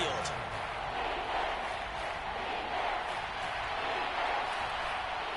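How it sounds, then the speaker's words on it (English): Stadium crowd noise from a PS4 football video game rises as a steady, dense roar of many voices, with faint cheering, holding at an even level throughout. "this crowd doing their best to make a lot of racket"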